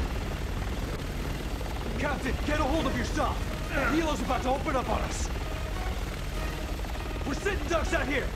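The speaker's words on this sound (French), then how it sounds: "Eh ben ça faisait longtemps qu'on n'ait plus d'hélicoptère" Helicopter rotor in the video game Resident Evil 6, a steady whirring drone running throughout, heard under someone talking.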